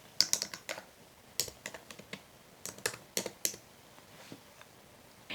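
Keys on a computer keyboard click in quick, irregular bursts with short pauses between them, close and fairly quiet.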